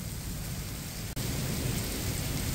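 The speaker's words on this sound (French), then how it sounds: "je me suis pris un gros orage là" Heavy rain pours down in a thunderstorm along the Loire, a loud, unbroken hiss of downpour with low rumbling beneath, interrupted only by one split-second dropout.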